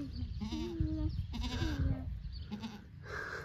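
A goat bleats nearby in a few wavering, drawn-out calls, loud and close over a low background rumble.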